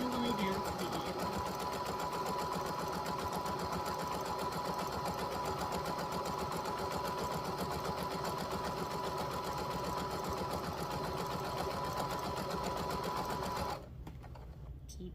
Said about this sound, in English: So you want to start off with a straight stitch going forward, and then you want to back stitch to lock in your stitching